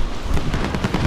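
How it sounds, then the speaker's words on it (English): Rapid automatic gunfire in Call of Duty Warzone, a dense loud burst of shots crackling in quick succession throughout. "That's why everyone's like shooting at each other and stuff."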